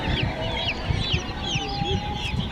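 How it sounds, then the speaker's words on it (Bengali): A flock of white broiler chickens, with a black one or two among them, clucks continuously at close range, with overlapping short calls and soft chatter and a faint background hum. "আর এগুলো সবই ব্রয়লার মুরগি"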